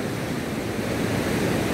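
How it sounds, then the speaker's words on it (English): The flooded River Chandrabhaga in Himachal roars after days of heavy rain, a steady broadband rush of water that is constant and close with no breaks. "One can hear the roaring sound of River Chandrabhaga."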